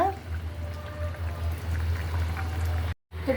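Shrimp and lentil curry with onion greens, green chillies and coriander leaves comes to a boil in a pot, giving a steady, close bubbling simmer over a low hum, with a brief silent gap near the end.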